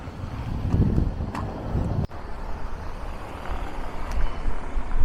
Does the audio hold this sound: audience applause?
no